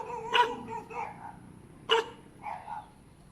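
A dog barks twice, sharp and fairly close, with softer yips and whines trailing after each bark in an otherwise quiet outdoor setting.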